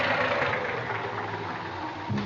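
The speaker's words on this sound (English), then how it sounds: "Engine, huh? Hasn't got the pickup of a kitty car. Well, it's misfiring some." Car engine idling with an uneven, misfiring chug, a steady mid-pitched rumble with slight stumbles, heard close and alone with no talk, as a radio drama sound effect.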